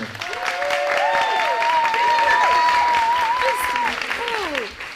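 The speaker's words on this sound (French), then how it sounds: "faites un tonnerre d'applaudissements pour nos 2 héros du jour, Chris et Alan" Wedding guests applaud in a continuous, fairly loud wash of clapping. Voices rise above it with cheering and whooping.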